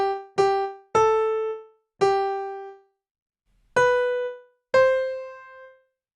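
The seven-note "shave and a haircut" phrase played on a bell-like tuned instrument: five quick ringing notes, a pause, then two final notes, clear and close with no talking.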